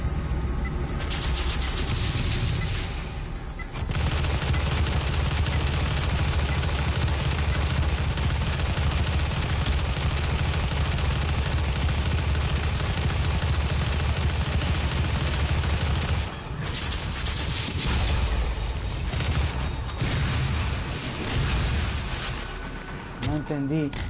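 Heavy assault rifle firing in the video game Doom, dense rapid gunfire and booming blasts running almost continuously, briefly dropping out near the start and again mid-way, loud and close.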